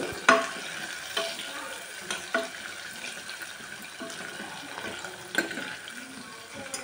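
A tempering of seeds, onion, chili, curry leaves and garlic sizzles in hot oil with a soft, continuous hiss and scattered stirring clicks and scrapes, no voices.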